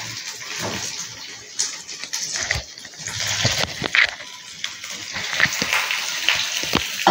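Potato pieces for Bengali aloo dum sizzle and hiss in hot oil in a pan, a steady broad crackle with uneven bursts of spatter and occasional clinks, continuing without a break.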